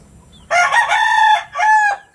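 A lemon Kelso gamecock rooster lets out a single loud, close crow in two parts, with a brief break before the final drawn-out note, set against a quiet backyard farm.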